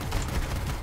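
Shotgun blasts in the looter-shooter game Borderlands 3, rough, noisy and booming, layered with other gunfire in a dense, chaotic burst of combat.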